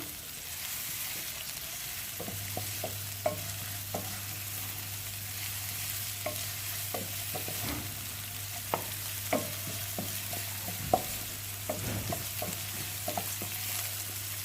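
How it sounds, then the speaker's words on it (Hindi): Filling for chicken-stuffed potato kababs sautéing in a little ghee or oil, a steady soft sizzle with scattered light clicks and scrapes from stirring, plus a low hum running underneath, with no talk. "घी का इस्तेमाल या ऑयल आप यूज़ कर रहे हैं तो वो बिल्कुल थोड़ा कीजिएगा। इसको सौटे कर लेंगे हम।"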